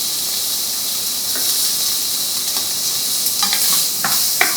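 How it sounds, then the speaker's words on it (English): Bacon pieces fry over medium heat in a preheated pot, making a bright, hissing sizzle that stays steady and close with a few faint clicks near the end, and no speech. "we're gonna put it in our pot, already preheat"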